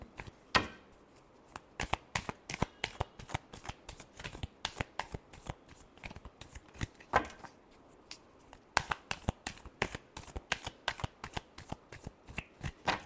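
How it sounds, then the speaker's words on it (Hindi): Tarot cards shuffle close up in rapid, crisp riffling bursts, with dozens of sharp flicking snaps repeating steadily and alone throughout. "Last shuffle."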